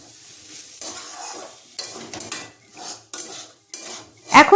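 Shyama rice fries in a wok over a low flame while a spoon scrapes and stirs it against the metal sides, giving a soft sizzle broken by irregular clattering strokes and a louder scrape at the end.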